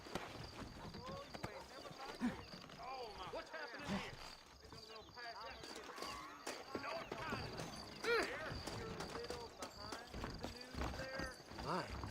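Horse hooves clip-clopping and a horse whinnying in the Western video game Red Dead Redemption, the gallop rhythm uneven and mixed with game sounds and voices talking over it.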